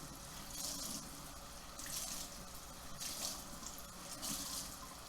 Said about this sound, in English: I'm going to start rinsing this one and then I'll grab the other one so I can rinse them together.